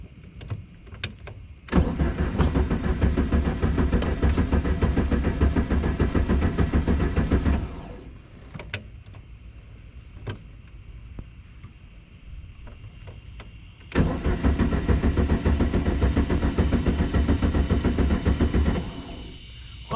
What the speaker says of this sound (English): Well, the starter works, but it's not starting.